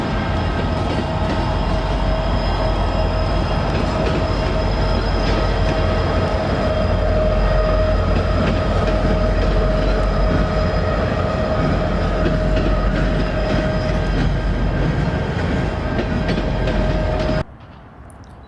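An Amtrak passenger train with Charger and Genesis locomotives rumbles past nearby at sunset, a steady loud roar of wheels and engine with a sustained tonal whine, cutting off abruptly near the end.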